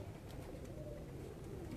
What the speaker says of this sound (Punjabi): ਇਹਨਾਂ ਨੂੰ ਕਹਿੰਦੇ ਨੇ ਜੀ ਛੱਤ ਵਾਲੇ ਕਬੂਤਰ ਜੀ